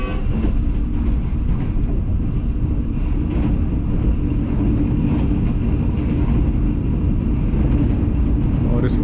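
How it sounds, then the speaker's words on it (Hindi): A Green Line passenger train runs through Jhelum railway station in the evening, with a loud, steady rumble and rolling wheel noise that holds for the whole stretch. Faint clicks and squeals ride on top, and no one talks. "शाम को 5:35 पे green line 6 town pass through हो रही है जेहलम रेलवे स्टेशन से।"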